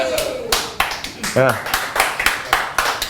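Audience applause after a comedian's joke, a run of sharp clapping bursts with a brief voiced interjection in the middle, close and fairly loud.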